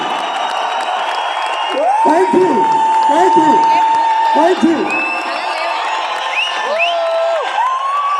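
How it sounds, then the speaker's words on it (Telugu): A large audience at a live talk event cheers, whoops and claps, loud and continuous, while someone speaks over the crowd noise. "जोरदार तालियां अपने सपने के लिए।"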